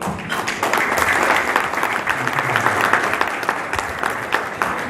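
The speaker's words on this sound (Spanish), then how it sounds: "un fuerte aplauso." An audience at an export business forum bursts into steady applause for an ambassador, a dense, even wash of many hands clapping without pause throughout.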